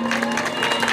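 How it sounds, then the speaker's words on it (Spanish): Applause from an audience at a celebration in Coatepec, a short burst of dense, steady clapping filling the room with a crowd murmur. "Brindémosles nuevamente un fuerte aplauso."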